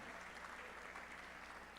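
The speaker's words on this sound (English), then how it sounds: "We're going to clap for you." Audience clapping for RBC Platinum Ambassadors at a rider recognition event, a steady, even wash of applause that stays faint and distant throughout.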